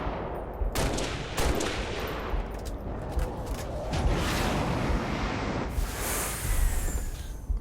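Heavy gunfire in the video game Halo: Reach, with dense overlapping bursts and shots running steadily throughout, loud and close, with no talking.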